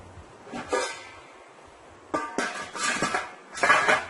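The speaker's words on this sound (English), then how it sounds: "you're going to cover your pot now, guys" A metal lid clanks onto a soup pot of homemade chicken soup with barley and split peas, a few sharp clinks and rattles in separate bursts across a quiet kitchen.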